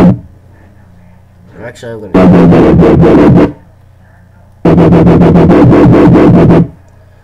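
A growling dubstep wobble bass synth made in FL Studio pulses in two sustained bursts with a slower wobble rhythm. A short bit of speech comes before the first burst.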